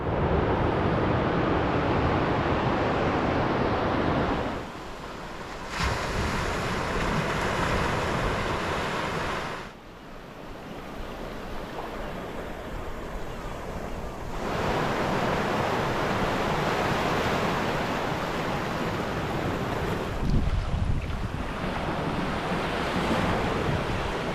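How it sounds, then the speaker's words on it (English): Steady roar of ocean surf breaking on Seacliff Beach, rising and falling in long swells with some wind rumble, no voices. "The sound of the waves"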